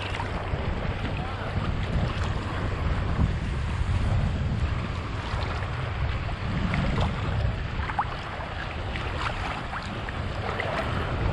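Strong breeze buffets the microphone on a beach at North Shore, Grand Cayman, beside a resort, a steady low roar of wind with surf washing underneath, loud and continuous throughout.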